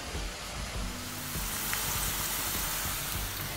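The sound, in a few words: onion pakodas deep-frying in oil at medium heat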